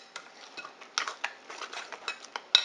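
A spoon stirs Hidden Valley Ranch spinach dip in a bowl, giving a string of soft scrapes and sharper utensil clicks at an irregular pace, close and fairly quiet.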